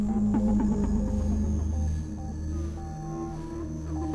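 A sustained synthesizer tone hums and throbs with a washy, reverberant tail, low pitched and steady, with no voices.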